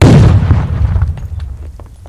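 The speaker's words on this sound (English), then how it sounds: "I want to throw a grenade" A grenade explosion in the tactical shooter Ground Branch: one loud, close boom that rumbles and decays over about two seconds, with faint debris ticks trailing off.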